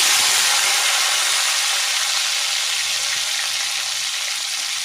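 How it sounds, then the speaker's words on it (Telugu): Chopped tomatoes frying in oil for a cucumber chutney, a loud, continuous hissing sizzle heard up close with no voices over it. "టమాటాలు బాగా మగ్గిపోవాలి ఆయిల్లో."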